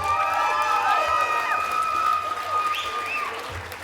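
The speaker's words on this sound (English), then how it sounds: "give these three boys one more round of applause" A powerlifting meet audience applauds and cheers for three young bench and deadlift competitors, a steady wash of clapping with scattered shouts and whistles that tapers off toward the end.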